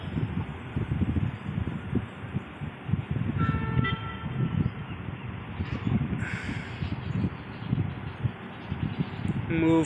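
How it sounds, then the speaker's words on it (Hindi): A train horn sounds briefly amid rumbling rail noise as a diverted train begins to move on the Ludhiana-Ambala line in India; a voice speaks over the steady mechanical din. "तो ट्रेन ने हॉर्न कर दिया,"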